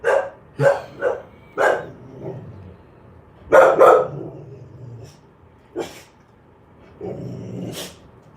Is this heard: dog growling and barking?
yes